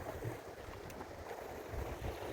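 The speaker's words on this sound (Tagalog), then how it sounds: "Sobrang lakas ng hangin." Strong wind roars steadily against the microphone, a constant rumbling gust with no pauses.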